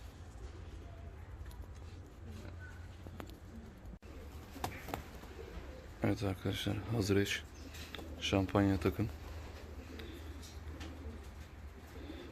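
Fancy and costume pigeons coo in two short, throaty bursts close by, against quiet background noise, while someone talks before and between them.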